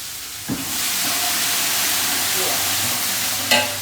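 Ginger and green chilies hit a hot pan while undhiyu cooks, starting a loud steady hissing sizzle that holds throughout, with a sharp clink at the start and another near the end.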